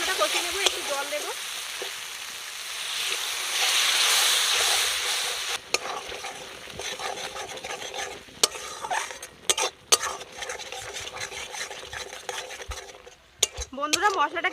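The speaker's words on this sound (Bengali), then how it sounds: "দিয়ে এবার ভালো করে মশলাটা কষিয়ে নেব" Spice paste of chilli, coriander and turmeric stir-fried in a pan for village-style crab curry, an ongoing sizzle laced with frequent metallic spatula clinks and scrapes, close up, sometimes swelling into a rain-like hiss.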